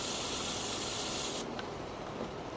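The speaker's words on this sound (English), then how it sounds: "Spray it so it goes through the hose." A Yard Mastery tank sprayer forces liquid through its hose in a loud, steady hiss that suddenly thins and drops partway through, then continues more softly.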